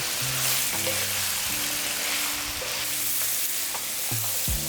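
Ground beef searing with onions and garlic in a hot pan for Filipino-style spaghetti, a steady close sizzle with occasional stirring scrapes and no talking.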